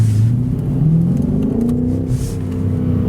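A 608 hp BMW B5 Alpina touring in Sport Plus mode pulls hard from low speed, its engine note rising steadily with a loud, continuous close rumble and whir from inside the car.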